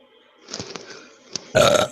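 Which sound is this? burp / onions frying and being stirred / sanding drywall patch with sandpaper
burp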